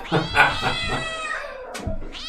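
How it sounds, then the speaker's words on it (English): Cat-like meowing in a drawn-out, wavering series of cries, fairly loud and up close, with a short, sharper call near the end; no talking over it. "that sounds like my cat"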